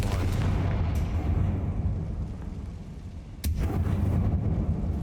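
Fire blast spell explosion from the Hogwarts Legacy video game: a dense, rumbling roar throughout, with a sharp burst partway through that pushes the blast back up to full loudness.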